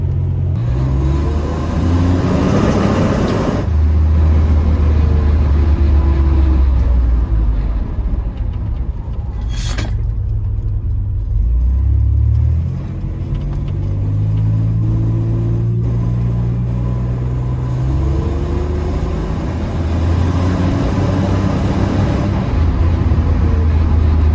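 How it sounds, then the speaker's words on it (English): Turbocharged Buick Grand National engine spooling up on the road, a continuous loud low rumble with rising and falling engine tones over steady road noise, heard from inside the moving car. "I can tell that the turbo's spooling up faster because there's a lot more turbo sounds"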